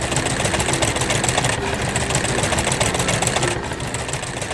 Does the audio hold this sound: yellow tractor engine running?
yes